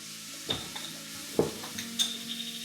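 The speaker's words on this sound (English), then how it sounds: "Whisk that together" Milk and flour whisked together in a pot for a seafood chowder base, a few soft scraping strokes and light metallic clinks against the pot, quiet and close, with gentle sizzling underneath.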